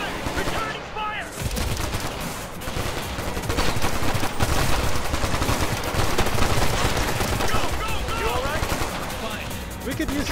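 Dense, continuous gunfire in the video game Ghost Recon Future Soldier, with rapid automatic bursts and heavy battle noise that goes on throughout.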